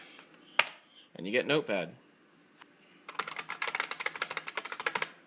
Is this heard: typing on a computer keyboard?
yes